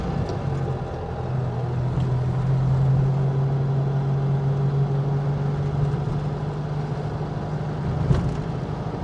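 A 1960 Volkswagen Beetle engine drones steadily from inside the car while driving, a low even hum that swells slightly midway, with a brief knock near the end.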